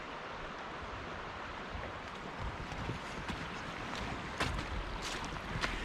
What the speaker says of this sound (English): the creek is pretty loud today